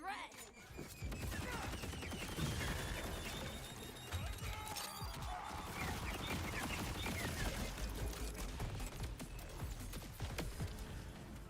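Video game combat fills the clip with dense, rapid gunfire and bursts of explosions, a busy, crackling barrage that continues without pause at a fairly low level for over ten seconds.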